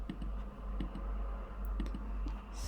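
Mouse clicks on a computer while using an online structural analysis tool, several light, sharp clicks spaced irregularly over a steady low background hum.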